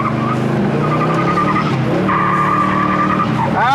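Loud tire squeal from a 1966 Chevelle skidding, a sustained screech over a roaring engine, sliding pitch toward the end.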